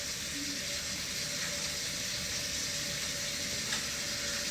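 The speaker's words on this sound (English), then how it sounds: "So I'm going to wash my damn hands." Water runs from a sink tap while hands are washed under it, a faint, steady hiss of flowing water that holds unbroken throughout with no talking.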